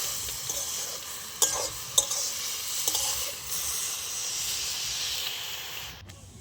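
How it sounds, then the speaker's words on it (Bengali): Pea greens with lentil dumplings (bori) in a pot are stirred up close: a continuous hiss of steam and sizzle runs under a few sharp spoon scrapes and knocks, then stops abruptly near the end. "একটু ভালোভাবে নাড়িয়ে নেব।"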